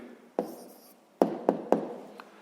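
A pen writes down the answer to a sixth-grade math exercise: a short scratch followed by a few distinct taps against paper, close, crisp and isolated in a quiet room.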